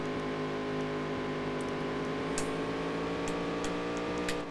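Race car engines from the Dirt to Daytona racing game hold a steady, sustained whine with layered harmonic drone, a few brief high clicks cutting through, continuous and fairly loud with no talking.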